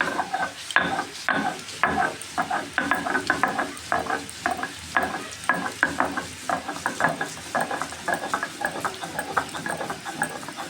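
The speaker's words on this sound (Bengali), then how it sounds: "এই তো আদা রসুনগুলোকে বেটে নিব শিল পাটায়" Ginger and garlic being ground on a sil-pata stone slab for a meat curry, with close, rhythmic scraping and grinding strokes repeating steadily throughout.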